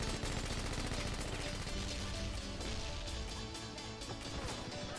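Dense, loud gunfire from a multiplayer shooter video game, with rapid overlapping shots and impacts filling the whole few seconds.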